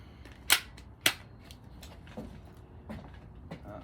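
A SEMA Platinum M4 airsoft rifle, internally stock with a 10.5 inch barrel, runs on an 11.1 volt LiPo and fires 0.20 gram BBs at about 400 FPS. Two sharp, loud shots land about half a second apart, followed by softer faint clicks and taps.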